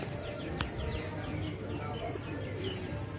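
Pigeons released from a pigeon shed, with soft coos and chirps over a steady low background and one sharp brief click near the start.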